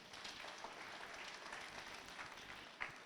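A church congregation applauds the Lord with steady, dense clapping that fills the room, sustained and even at moderate volume with no talking over it.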